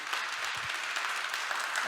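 Applause from a church audience after a speech, steady dense clapping throughout with no talk over it.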